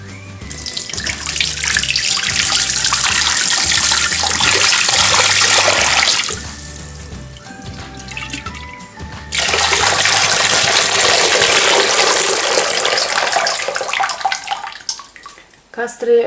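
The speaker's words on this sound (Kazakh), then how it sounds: "банкідегі суды, яғни кастрөлге құйып аламыз" Water pours steadily from jars into a pot in two long, splashing streams separated by a short pause, with soft music playing underneath.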